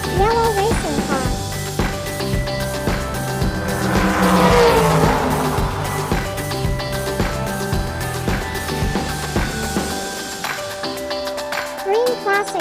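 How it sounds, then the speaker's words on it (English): A yellow racing car's engine revs hard while its tires squeal and skid, loud and close for most of the stretch, peaking midway before a brief drop near the end. "Yellow racing car."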